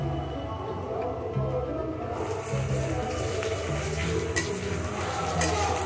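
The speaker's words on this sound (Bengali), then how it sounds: "ভালো করে মিশিয়ে দেব আর ভালো করে কষিয়ে নেব" Garlic stirred and fried in a pan for fish-head moong and masoor dal, a steady close sizzle with scraping stirs and light utensil clinks running throughout, with a voice talking over it.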